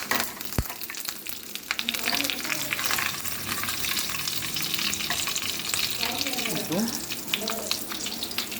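Mustard seeds, fenugreek and curry leaves crackle and sizzle in hot oil as tempering for buttermilk curry, a steady loud frying hiss with a sharp pop near the start and occasional stirring.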